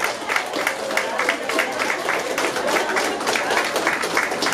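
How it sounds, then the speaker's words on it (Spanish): An audience at a corporate award ceremony claps steadily, a dense wash of many hands beating without a break, with a few voices faintly mixed in. "Un aplauso."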